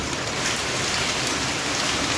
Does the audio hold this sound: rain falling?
yes